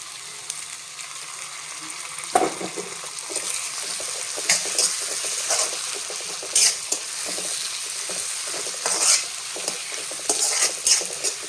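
Tomatoes and sprouted moth beans frying in a pan and being stirred, a steady close sizzle with intermittent scraping and clinks of the spoon against the pan.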